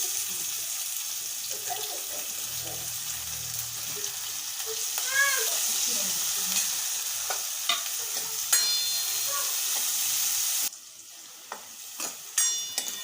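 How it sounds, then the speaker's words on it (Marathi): Chopped onion sautéing with crushed garlic in a pan: a steady close sizzle with occasional spoon stirring and clinks, a voice briefly speaking over it, the sizzle dropping quieter near the end. "कांदा परतून घेतलाय आपण."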